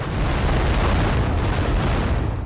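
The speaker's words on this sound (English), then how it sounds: "lighting all the cannons and getting one of the best cinematics you'll ever see" Cannons firing during a video game boss fight make a dense, continuous roar of overlapping booms and rumbling blasts, loud and sustained with no pauses.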